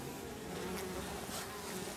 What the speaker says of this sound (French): on peut voir la guêpe là